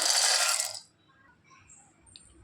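A handful of peeled peanuts pours into a mixer-grinder jar with a brief, dense rattling cascade close by. Near-silence follows, broken by a faint click.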